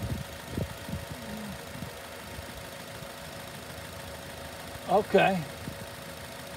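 A car engine idles steadily during fuel injection circuit testing, a low, even running hum close by, with a short spoken word near the end.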